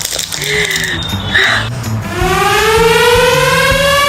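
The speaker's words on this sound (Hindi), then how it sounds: "क्या ये सायरन मेरे लिए बज रहा है?" A rising, wailing siren swells in from about halfway through, its harmonics climbing and holding loud over background voices and clutter.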